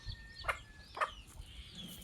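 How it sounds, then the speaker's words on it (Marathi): Free-roaming village hens and roosters on a farm give two quick, sharp clucks about half a second apart. The calls are fairly faint against a quiet outdoor background. "आणि कोंबडे पण आहेत."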